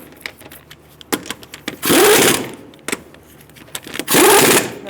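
An impact wrench snugs the wheel lug nuts on a 2014-2018 Subaru Forester, two loud bursts of rattling buzz about two seconds apart, separated by scattered clicks and clanks.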